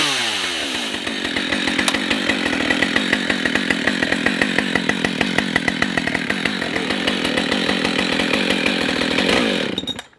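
A chainsaw cuts through wood on a homestead, its engine holding a steady loud buzzing drone for about nine seconds before cutting off abruptly, close up with no voices.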